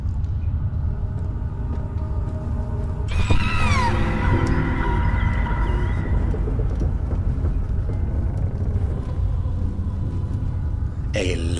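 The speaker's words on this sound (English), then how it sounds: "A loud final scream startles Daniel as he falls to the ground, frozen in fear." A loud, shrill scream in the horror video game Amnesia: The Dark Descent tears through a low, droning rumble in a dark storage area, wavering briefly before fading back into the steady background hum.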